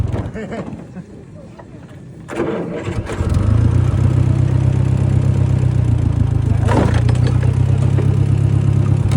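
A rail track speeder's motor, on the Lowville and Beaver River Railroad, starts up under talk and settles into a steady, close mid-pitched idle with a brief clatter partway through.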